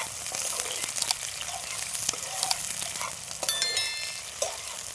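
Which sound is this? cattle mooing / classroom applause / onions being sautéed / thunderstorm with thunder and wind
onions being sautéed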